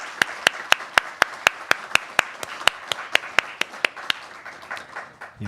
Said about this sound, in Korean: 우리 두 분 일어나 주시면 박수로 환영하겠습니다.